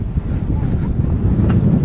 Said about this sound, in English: It feels a lot windier here.